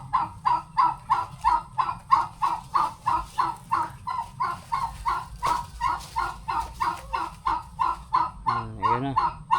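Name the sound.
turkeys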